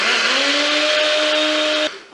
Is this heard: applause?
no